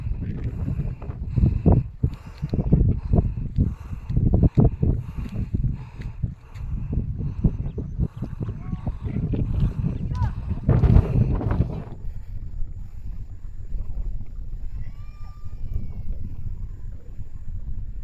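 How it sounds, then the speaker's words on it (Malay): Strong wind buffets the microphone at a hillside tea plantation in the Cameron Highlands, roaring and gusting loudly for most of the stretch before easing to a quieter, calmer background. "Angin sini kuat."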